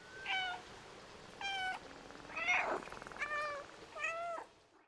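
A cat meows five times in the video game Stray, each call a short, clear, tonal cry spaced about a second apart, with no other sounds around it.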